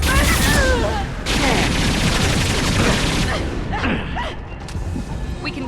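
Weapons fire in the video game Mass Effect 2, loud rapid bursts of gunfire with booming impacts and whooshes, coming in clusters with brief gaps, then trailing off into scattered shots.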